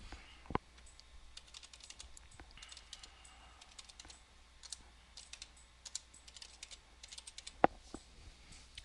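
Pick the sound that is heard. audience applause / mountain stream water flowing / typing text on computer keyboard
typing text on computer keyboard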